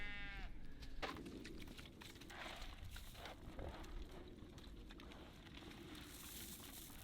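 Sheep bleat on a snowy farm, with a brief call up close at the start over a steady outdoor hiss and faint shuffling, while the flock mills around waiting for hay.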